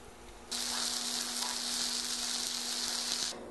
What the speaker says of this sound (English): we're going to fry these babies on both sides 2 to 3 minutes